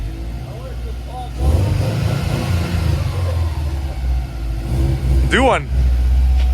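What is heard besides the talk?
Subaru car launching with clutch, engine revving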